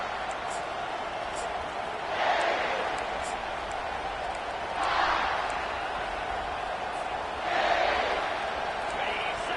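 Stadium crowd in the NCAA 25 football video game at an LSU versus South Carolina matchup: a steady, distant roar that swells three times at even intervals before settling back.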